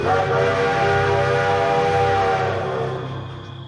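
A loud, sustained train whistle sounds close by with a low rumble beneath, fading slightly toward the end.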